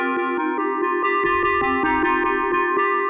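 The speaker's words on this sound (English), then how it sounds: "this is just a dry sound coming straight out of the synthesizer" A dry FM-style tone from an Arturia MicroFreak synthesizer plays a quick run of bright, metallic plucked notes in a steady rhythm, close and clean, with a low buzzing undertone entering midway.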